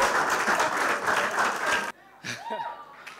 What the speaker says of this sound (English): Please put your hands together for Adewale Abati.